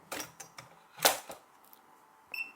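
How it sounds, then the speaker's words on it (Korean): A KIS-BTR1200N Bluetooth card terminal gives a short, clear electronic beep near the end, after a few dry handling clicks and taps in a quiet room. "자, 삑 소리 났죠"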